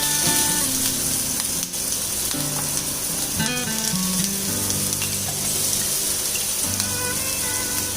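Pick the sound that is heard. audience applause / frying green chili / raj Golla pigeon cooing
frying green chili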